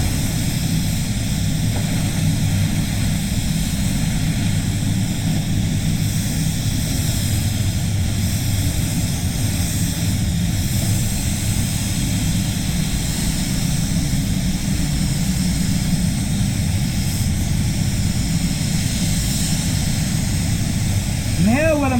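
An Iwata Supernova spray gun sprays clear coat at reduced pressure, giving a steady, continuous hiss of air and atomized paint that holds unchanged throughout with no pauses.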